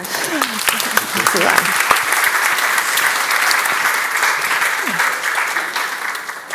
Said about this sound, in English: Thanks to the audience, and thanks, of course, to the brilliant panelists. Join me for a round of applause.